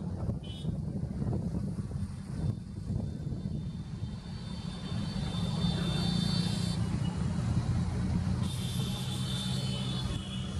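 EMD and Alco diesel locomotives race side by side, their engines making a loud, steady low roar and rumble that swells slightly midway and carries on for the whole stretch, with no voices.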